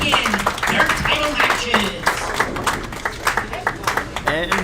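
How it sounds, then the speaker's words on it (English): Audience applause for bowling finalists at a lanes tournament, scattered clapping from a modest crowd running under ongoing announcer talk and other voices. "Let's give our 4 finalists a nice round of applause"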